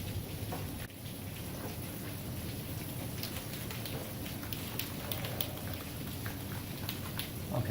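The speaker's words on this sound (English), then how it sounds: "Okay, yeah, it's raining." Steady rain falls outdoors with a constant broadband hiss and scattered close drips, continuous for the whole stretch with no voices.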